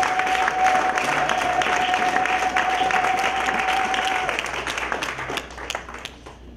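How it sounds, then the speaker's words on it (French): A church congregation applauds and cheers in acclaim of the Lord, a loud sustained wash of clapping from a crowd that fades slightly near the end, with a steady tone underneath. "Et si tu es d'accord, on acclame le Seigneur."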